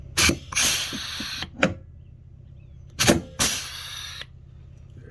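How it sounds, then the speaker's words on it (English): Pneumatic or hand rivet tool setting rivets into a boat motor mount for a Mercury 9.9 EFI kicker on a Tracker Pro Guide V-175, two separate bursts of mechanical squeezing and clunks, close and fairly loud with quiet gaps between. "I'm going to rivet it in."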